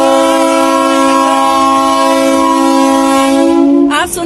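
A Vande Bharat train in Punjab sounds a loud, sustained horn that holds steady for about four seconds and then breaks off abruptly, with no voices over it.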